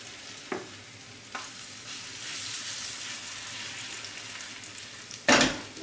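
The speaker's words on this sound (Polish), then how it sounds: "Już tutaj mam na patelni tłuszcz rozgrzany, więc kładziemy niewielkie porcje." Potato pancakes with cold meats frying in hot fat in a pan, giving a steady close sizzle with a few sharp spitting bursts as batter is added.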